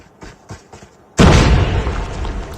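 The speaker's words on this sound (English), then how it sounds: "Watch out! Grenade!" A grenade blast in the Call of Duty Mobile shooter game erupts as one sudden loud boom that rumbles and trails off, coming after a few soft thumps and footstep-like taps.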